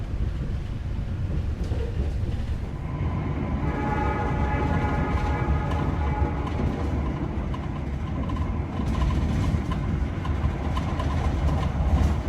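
The Serayu passenger train sits at a station in Indonesia, heard as a continuous, close rumble of rail cars with a sustained horn tone partway through, amid wind buffeting on the microphone and no speech.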